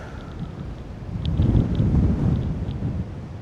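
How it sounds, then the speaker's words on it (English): Gusty wind buffets the microphone beside a river while fly fishing, a steady low rumble that swells louder in the middle and eases off toward the end, with no talking. "Although it's hard work with this wind."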